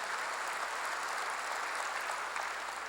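A church congregation claps together during a sermon, a steady, even wash of applause from a sizable crowd filling the room, moderately distant and sustained without any speech.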